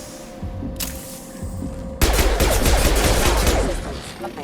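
Gunfire from a Mass Effect 2 combat scene: a quieter stretch, then a sudden loud burst of rapid shots and booms that continues close and heavy before tapering off.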